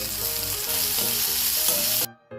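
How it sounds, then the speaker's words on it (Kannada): Onion, ginger garlic paste and fenugreek leaves fry in hot oil in a pan, giving a loud, continuous close sizzle that drops away suddenly and then briefly returns. "ಎಣ್ಣೆ ಸ್ವಲ್ಪ ಬಿಸಿ ಆಗಲಿ. ಈರುಳ್ಳಿ ಹಾಕ್ಕೊಳ್ತಾ ಇದ್ದೀನಿ. ಶುಂಠಿ ಬೆಳ್ಳುಳ್ಳಿ ಪೇಸ್ಟ್ ಹಾಕ್ಕೊಳ್ತೀನಿ. ಮೆಂತ್ಯ ಸೊಪ್ಪು ಹಾಕ್ಕೊಳ್ತೀನಿ."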